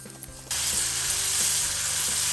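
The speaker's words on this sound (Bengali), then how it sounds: "এখন আমি ভালো মতো করে নাড়াচাড়া দিব 1 থেকে 2 মিনিট।" Ground poppy seed and onion paste fries in a pan and is stirred. A quiet stretch gives way after half a second to a loud, steady sizzle, broken by faint scraping strokes.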